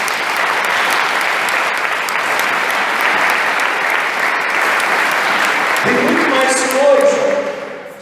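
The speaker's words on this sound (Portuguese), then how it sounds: "Vamos aplaudir o Senhor." A church congregation breaks into loud, sustained applause during a sermon, a dense wash of clapping lasting several seconds before a voice speaks over its fading tail.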